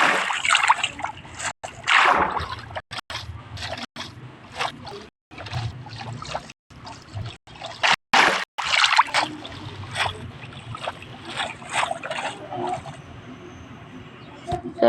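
Repeated splashing and sloshing through water in a desert-map video game, in choppy bursts with brief silent gaps throughout.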